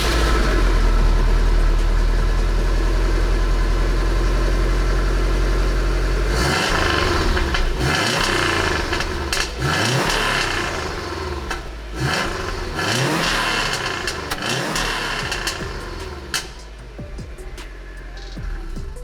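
STI-swapped Subaru Impreza Bugeye with an HKS High Power exhaust settles at a steady, loud idle, then breaks into a string of sharp throttle blips and revs that rise and fall repeatedly, close by with no talking.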